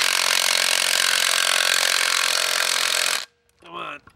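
A Milwaukee power tool running steadily and loud for about three seconds while it takes out 12 millimeter bolts on a 2JZ engine swap project car, cutting off abruptly before a brief voice speaks.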